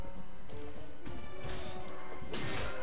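Weapon blows landing on an enemy's head in Mount and Blade Warband: two sharp, crunching smashes about a second apart, loud and close over a busy, clattering battle background.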